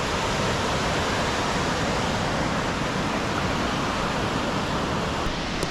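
A pretty creek rushing through a narrow channel carved into rock near a waterfall, a dense, steady roar of water that stays loud and unbroken throughout.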